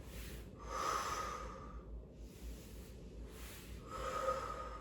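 Rhythmic breathing during a Pilates exercise, alternating exhales and inhales in soft, close whooshes with short pauses between breaths, no talking.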